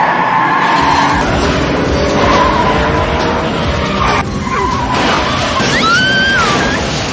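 A Nissan Skyline racing with skidding tires, a loud roaring engine under repeated sharp tire squeals, with rising and falling screeches near the end.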